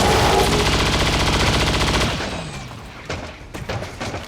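Heavy automatic gunfire from a grenadier in the video game XCOM 2, a dense rapid burst for about two seconds, then tapering into scattered impacts and booms, loud and close.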